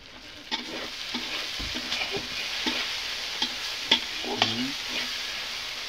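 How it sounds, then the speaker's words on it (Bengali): Duck meat being stirred and fried with chicken masala in a pan, with repeated spatula scrapes and knocks over a steady frying sizzle, close by, no talking. "চিকেন মশলাটা দিয়ে আমি ভালোভাবে একটু কষে নেবো আরও"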